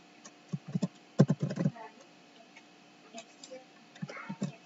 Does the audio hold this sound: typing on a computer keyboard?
yes